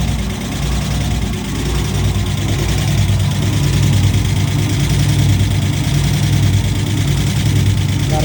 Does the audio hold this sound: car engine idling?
yes